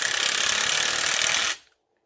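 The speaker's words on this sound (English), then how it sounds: "This is a drill hammer thing that's supposed to be hammered, so it's not gonna go fast as other ones does" A hammer drill running forward cuts a thread into a car battery post, giving a loud, steady grinding buzz that runs for about one and a half seconds before cutting out abruptly.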